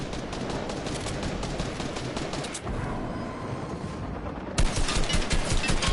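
Fortnite gunfire erupts in dense, rapid bursts of automatic shots, continuous and loud, with a brief lull before a sharper, heavier volley near the end.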